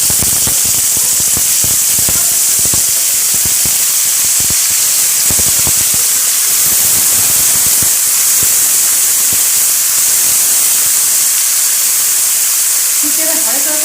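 Winter vegetables hit hot tempered oil in a pan and sizzle with a loud, steady, close hiss, broken by sharp crackles and pops as they are stirred.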